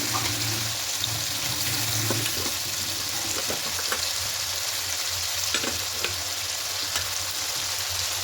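Ginger garlic paste fries in a pan with chopped tomato and onion, a soft continuous sizzle at moderate distance with occasional clinks and scrapes of stirring, no speech.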